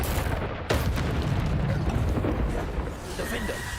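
The Bombarda spell in the video game Hogwarts Legacy sets off a loud, booming blast, followed by dense rumbling explosion noise that continues under spoken spell names.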